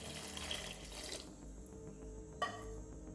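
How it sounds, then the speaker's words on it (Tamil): Water runs from a tap for about a second and a half as it fills a cooking pot for goat lung gravy, a steady gushing stream that stops abruptly, followed by a faint clunk. "தேவையான தண்ணி ஊற்றிக்கலாம்."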